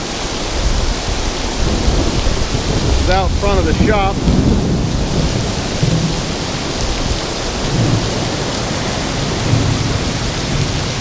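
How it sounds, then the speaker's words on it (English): Heavy rain pours steadily outside a workshop with a low thunder rumble underneath, a loud, dense wash of noise throughout; someone briefly speaks over it. "told you there was some rain coming through here."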